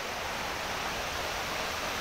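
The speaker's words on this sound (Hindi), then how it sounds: "आइए टाइगर पॉइंट का झरना दिखा रहा हूँ आप लोगों को, बहुत ही सुंदर झरना है यहाँ" The Tiger Point waterfall at Mainpat roars steadily, a broad unbroken rush of falling water heard from close by, with no voices over it.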